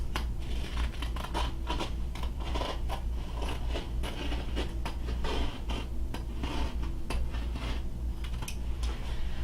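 Scissors snip steadily through camper cushion cover fabric in quick, repeated crisp cuts over a constant low hum, close by and moderately quiet.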